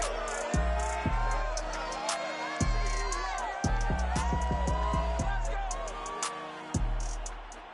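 Stadium crowd cheering at Ford Field in the Motor City, heard in the Madden football video game: a steady roar of a large crowd with swelling cheers and whoops, overlaid by bright stadium music and an announcer-style voice.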